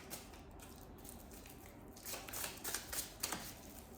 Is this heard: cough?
no